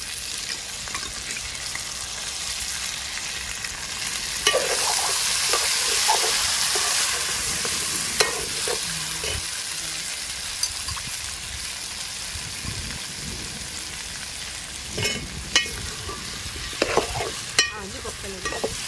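Colocasia and mutton chest bone stirred in hot oil in a frying pan, a steady loud sizzle with a scattered, irregular scraping and knocking of the spoon against the pan running throughout.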